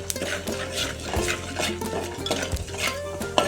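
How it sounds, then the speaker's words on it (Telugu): Tempering spices and dried red chillies fry in oil in a pan for menthikura pappu, a close sizzle broken by repeated scraping and clinking of a spoon stirring against the metal. "ఇవన్నీ కొంచెం ఫ్రై అవ్వాలి"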